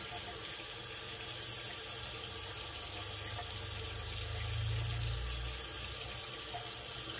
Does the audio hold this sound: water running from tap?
yes